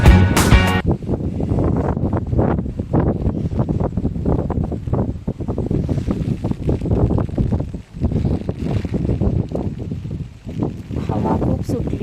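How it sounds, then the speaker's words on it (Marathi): Strong wind at Radhanagari dam buffeting the microphone in a loud continuous rumble with gusty surges, and voices talking briefly at the start. "हवा खूप सुटली आहे"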